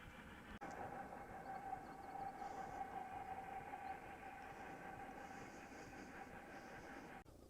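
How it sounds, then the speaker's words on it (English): A mountain railway train on Snowdon rumbles steadily nearby as it comes down the mountain, with a continuous rolling drone and a faint high whine, two sharp clicks marking the start and end. "look at the train coming down"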